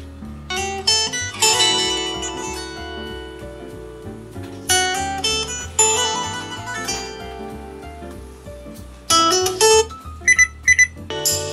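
An A9 Bluetooth speaker plays a music track streamed from a phone, with a slightly rattly sound. The tonal melody and steady beat come through loud and clear, with no talking.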